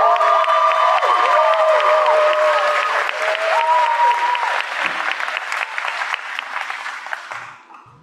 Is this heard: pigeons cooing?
no